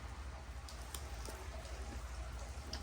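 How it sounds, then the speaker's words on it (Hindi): Steady rain falls outdoors, a constant soft hiss with scattered individual drops tapping on surfaces, fairly quiet and without voices. "बारिश फाइनली स्टार्ट हो चुकी है।"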